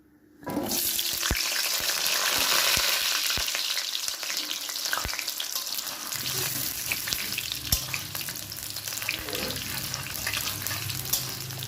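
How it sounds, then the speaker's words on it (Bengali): Potatoes dropped into hot oil, with a sudden loud sizzle starting after a quiet moment and then a sustained, close bubbling fry with a few utensil taps. "আর এবার আমি আলুগুলোকে ভাজবো"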